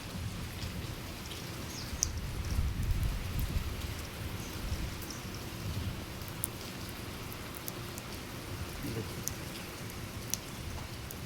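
Steady rain pours over garden plants and a mango tree, a dense, continuous hiss of drops on leaves with occasional louder patters and a low rumble of thunder underneath, close and even throughout with no voices.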